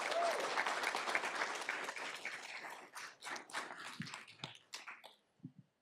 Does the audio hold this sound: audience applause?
yes